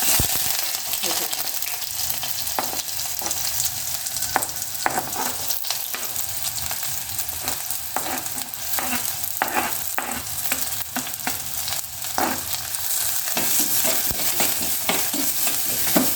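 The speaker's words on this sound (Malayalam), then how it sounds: "ചട്ടി വെച്ചിട്ട് എണ്ണ ചൂടായി. അതിലേക്ക് ഞാൻ ഒരു വലിയുള്ളി കുഞ്ഞേതായി അരിഞ്ഞത്" Finely chopped onion fries in hot oil in a pan, a continuous close sizzle under regular scraping stirs of a spoon against the pan, with no voices throughout.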